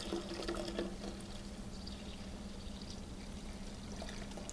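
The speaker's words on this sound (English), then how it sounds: "Once we throw our wort in there, we want to top it off with water to about 5 gallons." Water runs continuously into a fermenter to top off stout wort to about five gallons, a soft, steady pouring wash with faint splashing and a low hum in the background.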